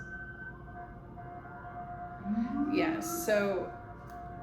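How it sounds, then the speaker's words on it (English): Emergency vehicle sirens passing outside, rising and falling in wailing sweeps that swell over a couple of seconds, heard indoors over a steady hum, with a voice speaking briefly. "oh, sorry, these sirens."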